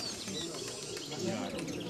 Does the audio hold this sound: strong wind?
no